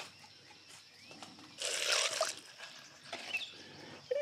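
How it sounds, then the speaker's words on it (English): Water poured into a container of bonsai soil, heard as a short, close splashing pour in the middle, followed by faint trickles and drips, with no talk. "I put water in it."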